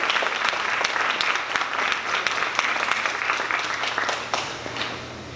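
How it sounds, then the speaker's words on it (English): An audience at a school Black history show applauds their principal, dense sustained clapping that stays loud and fairly even for several seconds, easing slightly near the end. "Let's give her a round of applause"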